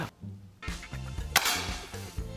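A single sharp gunshot crack at a shooting range stands out midway, with steady background music underneath.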